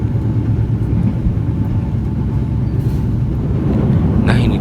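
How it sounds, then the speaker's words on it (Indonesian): Madiun Jaya passenger train crossing the Bengawan Solo river bridge, a steady loud rumble of wheels and carriages rolling over the span, continuous throughout with a brief brighter clatter at the end. "ini dia kereta api Madiun Jaya melintas di Sungai Besar Bengawan Solo"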